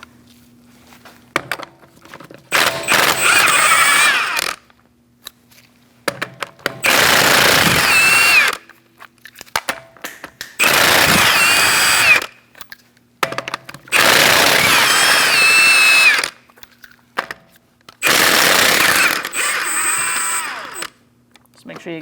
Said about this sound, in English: Using a 19mm socket, we're going to remove our lug nuts.